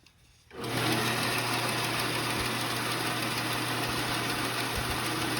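A bandsaw with a freshly repaired tire, patched with electrical tape at the wheel edge, starts up after a brief quiet moment and then runs steadily. Its motor keeps a constant close hum through the rest, with a couple of faint thumps, and no one speaks.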